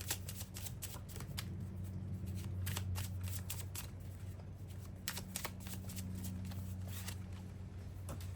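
A deck of cards being shuffled up close, a steady run of papery riffles and flicks that continues through the whole stretch at moderate volume with no talking.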